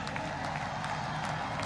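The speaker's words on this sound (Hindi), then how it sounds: "जोरदार तालियां।" Audience applause at a ceremony honouring Tokyo Olympics athletes, greeting hockey player Simranjeet Singh; steady, dense clapping from a crowd, moderately quiet and continuous throughout.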